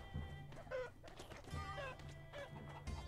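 Repeated clucks and squawks from the chicken man unit in Totally Accurate Battle Simulator, a series of short bird-like bursts over a steady game background hum, with no talk.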